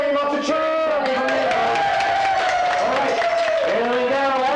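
An audience cheers and whoops at a stunt show, with a loud, sustained crowd roar and tonal shouts filling the whole stretch.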